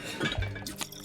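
Liquid poured out in the video game Book of Hours, a brief soft pour with a few faint drips and a light glassy clink, quiet and close.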